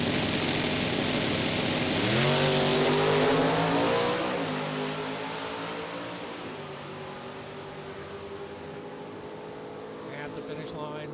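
Two drag racing cars, a Chevrolet Cobalt and a 2010 Ford Mustang, launching at Summit Motorsports Park, a loud rising engine roar that sweeps up in pitch, then fades into the distance, with an announcer talking over it.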